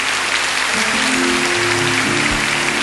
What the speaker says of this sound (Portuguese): Vamos aplaudir com mais força a palavra do Senhor.